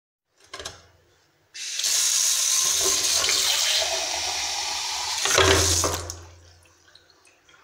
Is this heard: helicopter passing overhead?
no